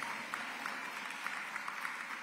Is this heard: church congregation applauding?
yes